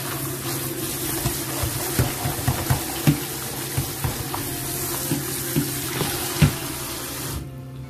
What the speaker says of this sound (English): Just wash it in the tap water.